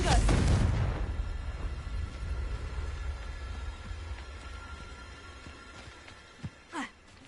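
Confringo fire spell blast in Hogwarts Legacy, a sharp booming burst at the start that fades into a rumbling tail, followed by quieter ambient game sounds and a couple of brief later pops.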